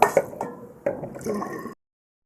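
Stored rainwater poured into a pot of khichuri made with thin rice, a short wet splashing fill with a few squishy sloshes, close and fairly loud, then silence.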